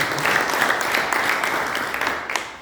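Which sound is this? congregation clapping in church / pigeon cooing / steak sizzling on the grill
congregation clapping in church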